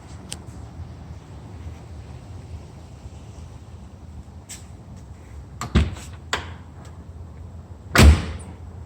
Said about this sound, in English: So the doors open and close well.